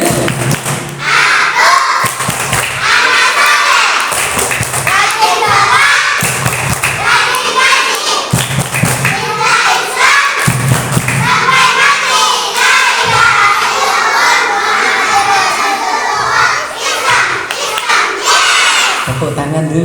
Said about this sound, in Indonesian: Yuk kita tepuk anak soleh dulu.